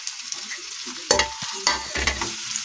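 Boiled potatoes being stirred into spice masala in a pan, a quiet sizzle broken by a few close scraping and clattering spatula strokes.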